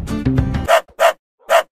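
A trained police dog in a Minecraft animation barks three times in quick succession, loud and close, after a brief whining, growly vocal lead-in.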